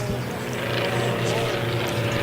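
Formula One class race planes roar past at the Reno Air Races, a steady loud propeller and engine drone filling the air while a commentator talks over it.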